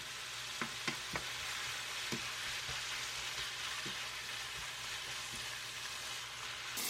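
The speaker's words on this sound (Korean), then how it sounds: "대패 삼겹살 500g을 넣고 골고루 볶아줍니다" Thinly sliced pork belly and carrots sizzle steadily in a hot pan, broken by a few sharp clicks and scrapes of a utensil stirring, close and fairly quiet with no talk.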